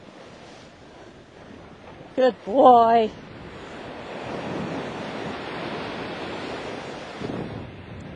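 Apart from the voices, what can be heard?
water waves splashing around a horse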